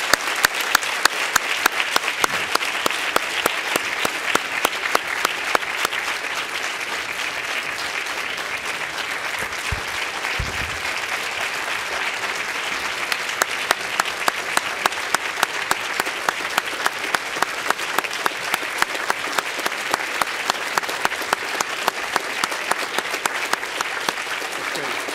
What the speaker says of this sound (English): I think we need a round of applause for all our speakers in the panel today.